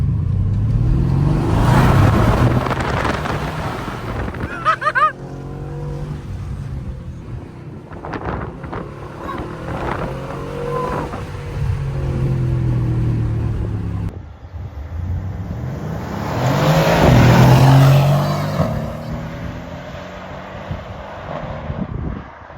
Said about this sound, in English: So I'll just do it here. I'll just drive the car.